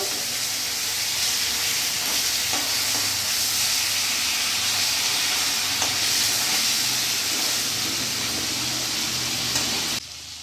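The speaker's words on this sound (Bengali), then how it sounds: "মাছগুলো আমার এক সাইড ভাজা হয়ে গেছে, আমি উল্টে দেবো।" Fish sizzling in hot oil in a pan, a dense, even crackling hiss held close and loud for about ten seconds before cutting off.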